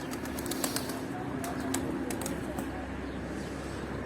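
Pet pigeons flap their wings and coo in a loft, with soft fluttering bursts and low cooing over a steady background hum.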